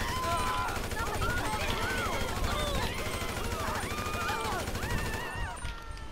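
Gunfire in GTA 5 story mode as Franklin shoots up a school, a dense, continuous barrage that stays loud throughout, mixed with wailing, rising and falling tones and voices.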